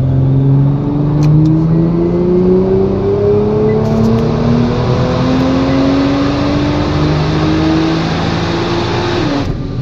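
A 2017 Nissan GT-R NISMO, stock, makes a full-power pull on a Dynojet dyno, engine tone climbing steadily through a long loud run with a gear shift near the end before cutting off.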